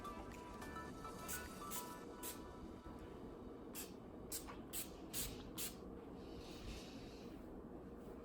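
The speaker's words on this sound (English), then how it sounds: "we're going to go ahead and spray the coconut oil Weightless Hydrating Oil" Coconut oil weightless hydrating oil mist sprayed onto curly hair, several short hissing pumps, some in quick succession, fairly quiet over a steady background rumble.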